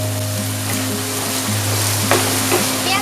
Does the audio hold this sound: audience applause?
no